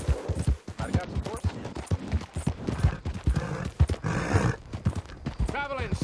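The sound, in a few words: horses in video game Red Dead Redemption 2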